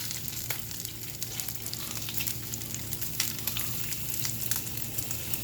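Strips of bacon sizzle and crackle steadily in a cast iron or nonstick pan, a close, continuous frying hiss with scattered pops throughout.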